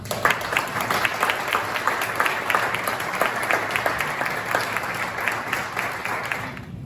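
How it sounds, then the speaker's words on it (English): An audience applauding, a steady wash of many hands clapping for several seconds at moderate volume. "a great hand of applause"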